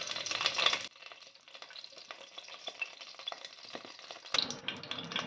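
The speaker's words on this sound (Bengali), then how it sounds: "ফুলকপিটা হালকা করে ভেজে নেব" Cauliflower pieces fry in ghee with a steady close sizzle and crackle, stirred now and then, louder at the start, dipping briefly, then swelling again near the end.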